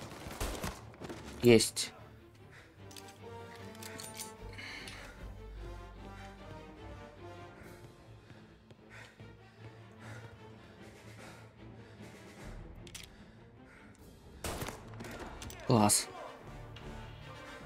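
Gunfire in the video game Mafia: Definitive Edition: a sharp burst of shots early on and another cluster near the end, loud against a quieter game soundtrack, with someone briefly talking.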